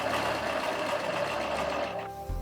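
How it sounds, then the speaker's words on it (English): A sewing machine stitches the sides of a beanie made from an old sweater, running steadily with a fast mechanical whir for about two seconds before it slows and stops, close by and with no talking. "I'm going to sew up each of the two sides that are close to each other"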